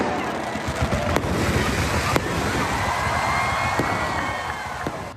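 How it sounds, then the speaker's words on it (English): A fireworks show at the Durham Bulls ballpark on the 4th of July, with a dense crackling roar, occasional sharp bangs and a crowd murmuring underneath. "epic fireworks show. Check it out."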